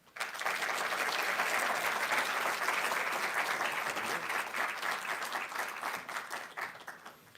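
A room of people at an evening book talk on rum bursts into sustained applause, loud and dense for several seconds before tapering off into scattered claps.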